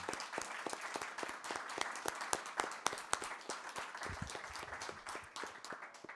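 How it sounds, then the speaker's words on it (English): An audience at a board meeting applauds a team, with crisp individual claps standing out over a continuous bed of clapping hands throughout. "And this round of applause for the team."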